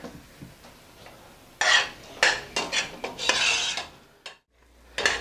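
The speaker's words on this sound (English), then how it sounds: "I just need a spoon, get this all stirred together" A spoon stirs green chili bisque with a little olive oil in a pot. Repeated clattering scrapes and knocks of metal against the pot come close and fairly loud, in uneven bursts separated by short pauses.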